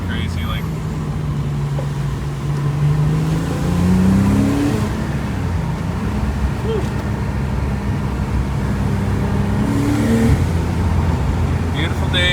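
A car rolls along slick, wet forest roads, its steady mid-range engine drone and road rumble continuous throughout, with the pitch rising and falling as it eases through the curves, while people talk inside the cabin.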